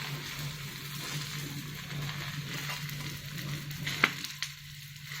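A wheat roti cooks on a hot, oil-greased tawa with a soft, steady sizzle throughout, broken by a brief clink and scrape near the end.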